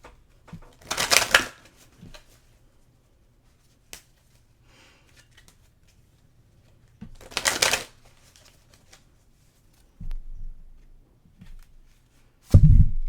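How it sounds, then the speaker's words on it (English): Oracle cards are shuffled for a tarot reading in two brisk, close riffling bursts separated by quiet pauses, followed by a few softer taps and handling sounds. "I'm going to pull a few more oracle cards for you"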